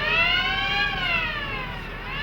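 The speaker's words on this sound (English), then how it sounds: "the shift manager will order an evacuation, which sounds like this." A continuous electronic factory evacuation alarm wails in smooth rising and falling sweeps, loud and steady throughout.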